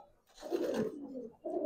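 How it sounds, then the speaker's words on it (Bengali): A pair of old-breed pigeons, two brothers in a cage, coo in a rolling low burst followed by a shorter second coo, close and clear with no speech. "দেখেন সম্পূর্ণ কুণ্ঠি গলার ভিতর দুইটা কবুতর"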